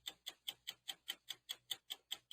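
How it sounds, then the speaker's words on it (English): A countdown clock ticking sound effect in the style of the 60 Minutes stopwatch, played on a wrestling podcast: about a dozen sharp, evenly spaced ticks, roughly five per second, loud and close with no voices over them. "So now I want to hear that clock again because we're counting down that 60 minutes clock."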